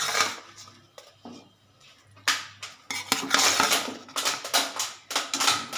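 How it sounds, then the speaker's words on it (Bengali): Plain-banana fritters (kofta boras) go into a simmering curry gravy in a metal pan, with repeated clattering knocks of a utensil against the pot and sizzling, bubbling noise in between. "এবার ঝোলটার মধ্যে আমি এটা এই বড়াগুলো ছেড়ে দিচ্ছি"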